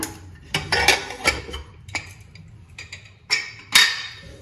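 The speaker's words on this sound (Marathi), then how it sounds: "तर आता आपण कुकर उघडूया" Metallic clanks and scrapes of a pressure cooker lid being opened after the steam has fully released, several sharp clicks spread irregularly with quiet gaps between.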